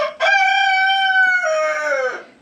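A single loud rooster crow, close by, one long drawn-out call that falls in pitch at the end.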